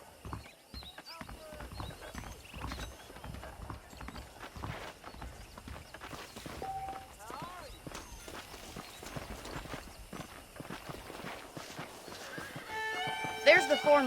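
Saddled horses in the Red Dead Redemption video game, with hooves clip-clopping and an occasional whinny heard beneath the game's speech and ambience.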